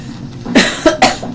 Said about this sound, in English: here we go, we're gonna start coughing